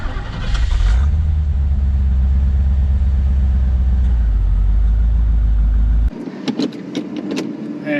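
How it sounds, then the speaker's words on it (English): A 1985 Chevrolet Corvette Z51 with its L98 V8 runs loud and steady at a deep idle, then cuts off abruptly around six seconds, leaving quiet clicks and jingling keys. "that L98, I mean, it fires up"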